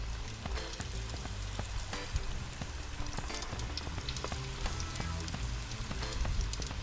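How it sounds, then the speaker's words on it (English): Catfish nuggets cut from store-bought fillets deep-frying in hot oil, a dense steady sizzle with crackles and pops throughout, close and even, with no voices. "That's how I fry my fish"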